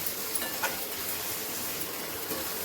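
Sliced onions and curry leaves sauté in a pan, producing a steady, close sizzle with a few light stirring clicks; no one speaks over it.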